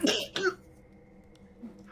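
A single short, sharp sneeze bursts out close by, followed by quiet room tone.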